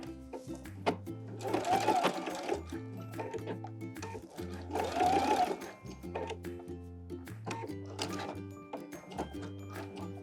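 A sewing machine stitches the edge of the binding on a skirt waistband, running close up in two main bursts of rapid, rhythmic mechanical chatter separated by brief pauses, followed by lighter runs.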